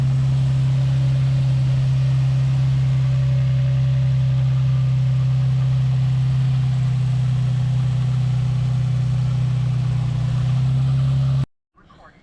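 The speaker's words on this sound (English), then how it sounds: "it feels good to hear that car run again." An Infiniti M35 engine idles steadily nearby, a loud, even low rumble that runs throughout before cutting off abruptly near the end.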